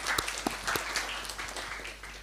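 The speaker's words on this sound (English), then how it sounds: "And let's give them a big round of applause once more." An audience at a public lecture on Islam in Uzbekistan and Indonesia gives a short round of faint, scattered applause, with separate claps audible at a moderate distance.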